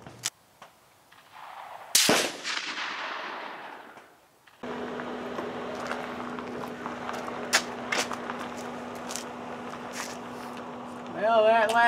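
K31 rifle fired at an outdoor shooting range, one loud sharp report with a decaying echo, then someone talking over a steady hum.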